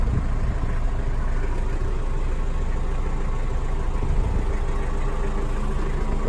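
A 1992 Mazda Brawny motorhome's non-turbo engine idling, a steady low diesel-like rumble with an even chugging texture, close and constant throughout with no voices.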